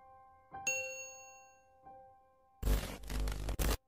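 A notification bell sound effect gives a clear, ringing ding that decays cleanly, followed by a softer tap and then a short loud burst of noisy sound at the end.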